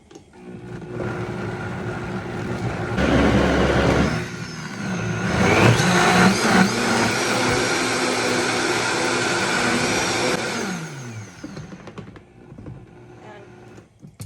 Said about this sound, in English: Right into our blender. And now we blend.